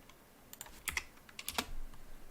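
Quiet clicks of typing on a computer keyboard, a handful of scattered keystrokes coming in small clusters, close and faint, with no talking.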